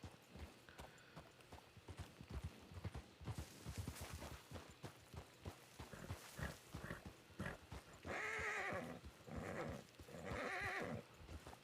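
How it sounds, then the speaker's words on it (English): Horses neigh and whinny loudly several times over steady clip-clopping hooves, with faint background sounds throughout, in the video game RedM. "I just heard another horse."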